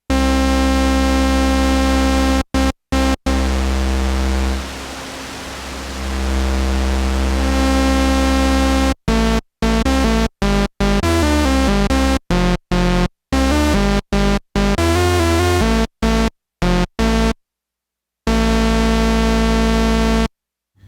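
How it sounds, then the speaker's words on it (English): A Behringer WASP Deluxe synthesizer plays buzzy harmonic tones with a hiss of white noise blended in, swelling briefly into a noisy wash, then choppy stuttering notes with abrupt silences. "there's a knob to add white noise to our signal, just like the original."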